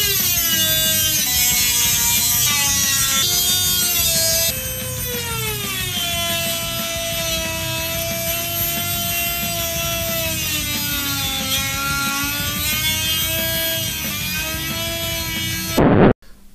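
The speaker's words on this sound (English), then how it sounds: "a Dremel's good for this because it's kind of a tight little space to be working in" A Dremel rotary tool fitted with a reinforced cutting disc whines continuously at high speed in a tight space, its pitch dipping and rising slightly as the load changes, close and steady until it stops abruptly at the end.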